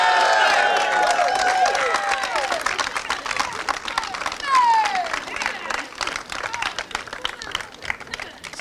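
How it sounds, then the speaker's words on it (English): Crowd applause and cheering at a British Kart Championship podium ceremony for a karting driver's first podium, a dense wash of clapping with a brief whistle, fading slightly over the clip. "Please give a huge round of applause for Sukmani"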